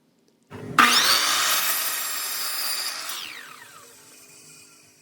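A handsaw cutting a wooden 2x4 to length by hand, marked with a square: a loud, steady rasp of continuous strokes that starts abruptly and then tapers off as the cut finishes.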